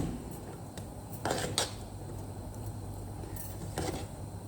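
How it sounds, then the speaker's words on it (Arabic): Chopped dates and sugar are stirred in a bowl with a spoon. The spoon makes soft scraping and a few sharp clinks against the bowl, close by, over a steady low hum of room noise. "نضيف الدقلة بعد ما قصصتها مكعبات صغيرات، ونحركهم مع بعضهم"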